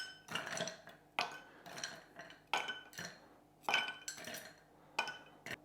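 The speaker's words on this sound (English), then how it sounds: "I'm going to stir this down with ice again to chill and dilute" Manhattan cocktail stirred with ice in a glass, a series of close, crisp clinks and rattles of ice and spoon against glass coming in regular bursts about once a second, with no talking.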